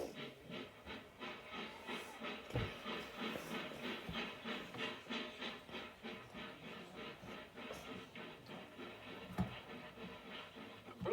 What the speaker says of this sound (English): The branch joined the main line at Folkestone Junction, where a BR Standard Class 5 passes through the station